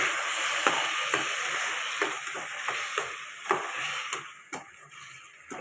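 Chopped tomatoes sizzle and fry in a pan while being stirred for a coconut chutney, a steady bright hiss broken by a few soft scraping taps, close and alone with no talking.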